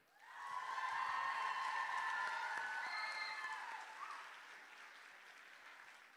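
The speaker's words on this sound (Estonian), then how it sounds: "Nii tehke nendele suur aplaus." Applause from an audience at a children's performance event, rising quickly to a sustained wash of clapping with some crowd noise and cheering, then tapering off over several seconds.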